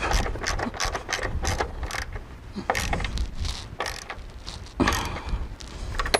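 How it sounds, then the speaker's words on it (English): A wrench tightens the upper control arm nut on a 1990 Honda Civic, giving a close series of sharp metallic ratcheting clicks in irregular bursts with short pauses between strokes. "tighten up as much as I can with the wrench"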